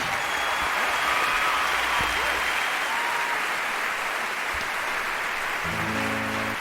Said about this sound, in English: Big applause for the band.